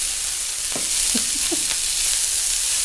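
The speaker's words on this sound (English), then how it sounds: "We're going to put in a diced onion." Diced onion hits a hot pan and fries with a steady broadband sizzle, a few clinks of stirring audible near the start, no talking.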